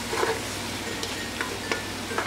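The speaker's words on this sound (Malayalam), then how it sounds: "പിന്നെ മഞ്ഞൾപ്പൊടി, മല്ലിപ്പൊടി, കുരുമുളക് പൊടി ഇത്രയിട്ട് ഒന്ന് വഴറ്റി കൊടുക്കാം." Ginger, garlic, turmeric, coriander and black pepper powders sauté in a pan for Thalassery dum biryani, giving a steady close sizzle with a few sharp clicks of the spoon scraping and stirring.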